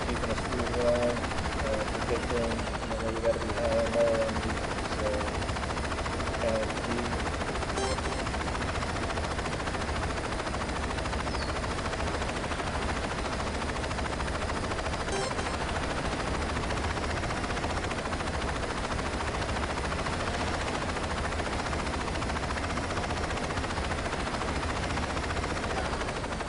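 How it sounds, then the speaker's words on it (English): A helicopter's rotor in the video game Saints Row 2 drones steadily throughout, with faint distant pops like gunfire and a hint of talk early on. "It's definitely one of my favorite helicopters in this game."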